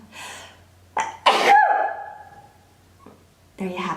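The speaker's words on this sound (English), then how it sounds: "Oh, I have to sneeze." A person sneezes sharply and loudly near the middle, a short gasping intake before and a trailing vocal tail after, with brief talk-like sounds at the start and end.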